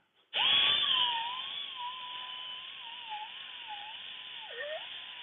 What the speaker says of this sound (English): So we'll sand it down a little bit more.